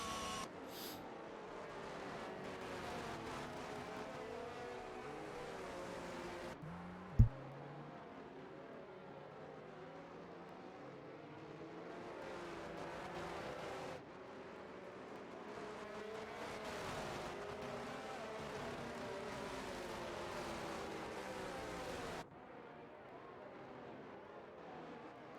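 Race cars in an F1 game at Singapore, pulling away behind the safety car: a steady engine drone with rising and falling pitch runs throughout, broken by one sharp knock and a few abrupt cuts.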